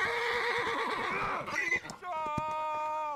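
A horse in the video game Holdfast neighs in a long, loud whinny that wavers and fades, followed by a shorter, higher whinny with a rattling edge, close up amid battle noise.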